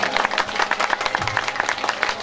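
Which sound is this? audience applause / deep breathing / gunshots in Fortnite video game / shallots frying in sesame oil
audience applause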